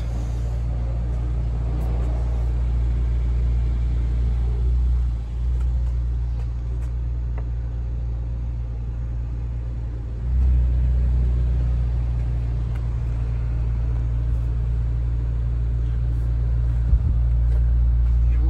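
A Honda CR-Z Mugen RZ engine drones steadily while the car drives along, a constant low rumble with road noise and small shifts in load, heard from inside the cabin.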